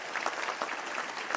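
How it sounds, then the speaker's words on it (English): Brief burst of applause for elected officials at a local government luncheon, an indoor crowd clapping steadily at moderate level. "We want to give you a round of applause, and I want you to keep standing."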